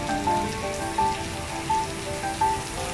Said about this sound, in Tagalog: So nung andito na ako sa National Stadium, may ulan na.